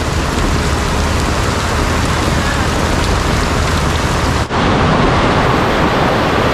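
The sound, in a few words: heavy rain and flowing water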